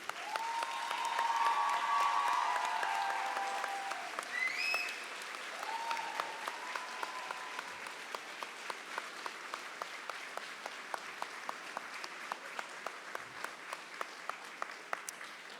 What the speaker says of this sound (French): je vous invite maintenant à vous lever, vous tourner afin d'applaudir celles et ceux qui vous ont accompagné tout au long de votre parcours